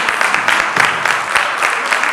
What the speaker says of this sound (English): we can clap for that